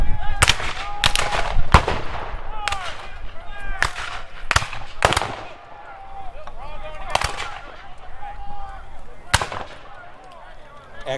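Civil War reenactment battle at Fort Donelson, with repeated sharp musket and cannon blasts firing in an irregular volley across a field, some loud and near, others farther off, amid crowd noise.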